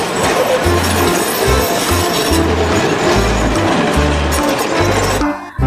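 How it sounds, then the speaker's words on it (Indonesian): A loud toy high-speed train sound of rhythmic clacking wheels and steady rumble runs continuously, cutting off abruptly near the end. "Yang ini ada kereta cepat."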